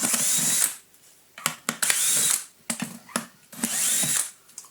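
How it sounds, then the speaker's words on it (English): Three whirring bursts from a power drill back out screws from a Numatic vacuum cleaner housing, with short clicks and rattles of parts and tool handling in the pauses between runs. "So we'll take the screws out, and I'll show you why as we go."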